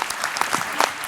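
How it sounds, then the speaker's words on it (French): An audience claps steadily, a brief burst of applause from many hands at a moderate distance. "on applaudit Jean-Christophe, s'il vous plaît."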